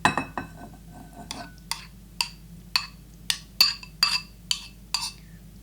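Pesto pasta gets tossed in a bowl, giving a steady run of bright utensil clinks and scrapes against the dish, roughly two per second, close and clear with nothing else over them.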